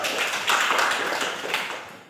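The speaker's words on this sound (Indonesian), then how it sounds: "Tepuk tangan untuk si Firdaus." Students in a classroom give a short round of applause for a classmate, a brief burst of many overlapping hand claps heard close by.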